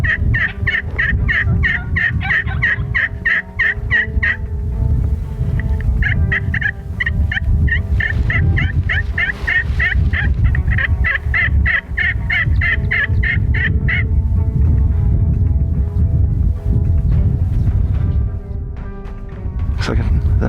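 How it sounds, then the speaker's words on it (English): Wild turkey gobblers gobble repeatedly in rapid rattling bursts during a crossbow hunt, several calls overlapping at moderate distance over a steady low outdoor rumble, with no talking. "Looks like another gobbler in the back."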